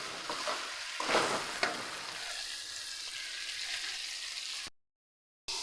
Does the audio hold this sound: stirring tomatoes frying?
yes